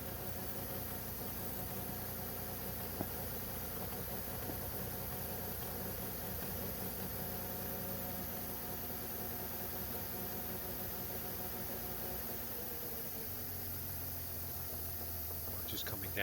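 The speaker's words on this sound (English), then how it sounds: "Just coming down to idle now." The engine of a 955 Porsche Cayenne idles steadily in a dull, continuous drone, and a faint voice speaks over it.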